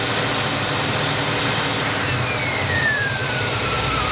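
The engine of a 1957 Ford Ranchero runs roughly and misfires, giving a dense, unsteady roar at close range for a few seconds, with no talking.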